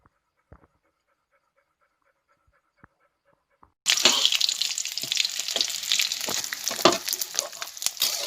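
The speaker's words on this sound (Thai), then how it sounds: "ทอดครับเด็ดแดดเดียว" Sun-dried frogs dropped into hot oil, a loud, sustained crackling sizzle bursting in abruptly after a few near-silent seconds with faint clicks, frying steadily and close by.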